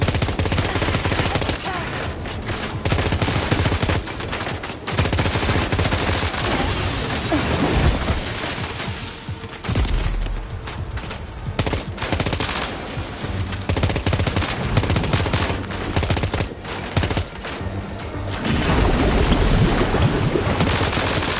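Sustained video-game gunfire, dense rapid bursts of automatic fire and shots rolling on for about twenty seconds, loud and close, with brief lulls and some crashing, booming impacts mixed in.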